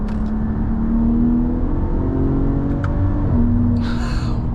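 Ram 1500 RHO truck accelerating hard in fourth gear, a loud rising engine drone heard from inside the cab, steady and close, with a brief breathy gasp near the end.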